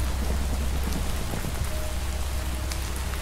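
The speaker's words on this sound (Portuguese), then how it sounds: "Eu acho que essa chuva é ácida, mano." Acid rain pours steadily across a zombie apocalypse video game world, a dense, constant hiss of drops on surfaces with a low rumbling undertone and no voices.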